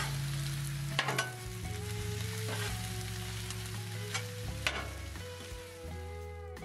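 Cabbage frying in olive oil on a flat Blackstone griddle gives a soft, continuous sizzle under a steady low engine-like hum, with occasional metal spatula scrapes and clicks; a brief word is spoken.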